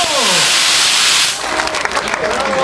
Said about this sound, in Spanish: Ese aplauso bonito, qué bonito.